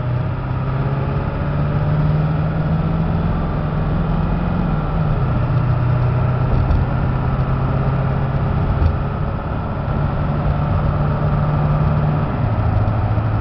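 A 2001 Ford F350 4x4 government snowplow truck with a 7.3 diesel engine runs steadily and loudly at close range for the whole stretch, a low continuous drone with slight shifts in pitch and no talk.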